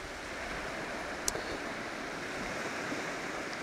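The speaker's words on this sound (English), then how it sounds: "Waves rolling in." Ocean waves roll in on an Irish beach at sunrise, a steady far-off wash of surf with wind, swirling around rocks, with no voices.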